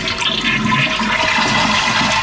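A toilet flushing as its flapper is lifted by hand during a broken-handle repair: a loud, continuous rushing and gurgling of draining water, close and steady throughout, with no voices.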